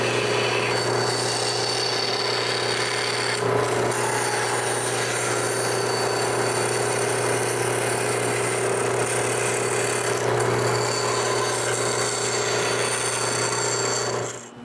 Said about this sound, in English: cutting this with my new bandsaw is much easier